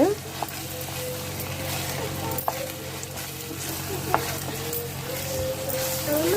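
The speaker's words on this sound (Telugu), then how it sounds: "ఇది బాగా అల్లం వేసాను కదండి బాగా కమ్మటి వాసన వచ్చేదాకా వేయించుకోవాలి" Ginger-garlic paste fries in a pan for a goat tripe curry, a steady close sizzle with a few sharp spatula taps against the pan throughout, and no talking.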